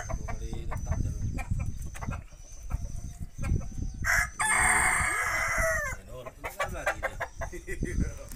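A one-year-old Peru-breed rooster with big spurs crows once, loud and close, in the middle of nearby chatter and scattered clucking.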